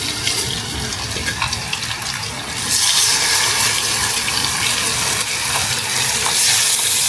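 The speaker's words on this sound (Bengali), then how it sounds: "ইলেকট্রিক চুলায় মাছ ভাজা দেখা যায় কেমন হয়" Fish frying in oil on an electric stove, a loud continuous hissing sizzle that swells partway through and stays dense, close up with no talk.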